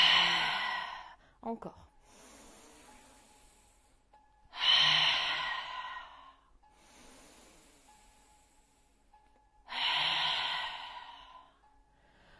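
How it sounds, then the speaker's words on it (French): Three long, slow exhales through the mouth during a yoga breathing exercise, each a soft, breathy rush that fades out, spaced several seconds apart, with a calm instructor's voice speaking briefly between them. "inspire par le nez. Expire par la bouche."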